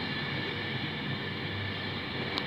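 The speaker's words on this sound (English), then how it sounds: "here comes an Avanti West Coast in new Avanti Coast West" An Avanti West Coast train in new livery pulls into Wigan station with a steady, close, heavy rolling rumble and hum throughout, and no one speaks.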